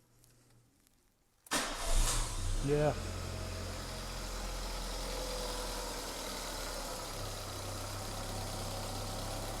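A MK5 Ford Escort engine cranks and catches with a loud burst of revs, then drops to a steady low idle that runs on for the rest of the clip, with a brief word spoken early.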